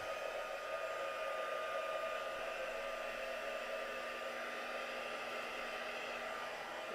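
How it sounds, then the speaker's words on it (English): A heat gun blows hot air to emboss powder on a handmade card, a steady close whirring hiss with a high whine that holds evenly the whole time. "Once you put embossing powder on it and then heat emboss it, the colours really pop."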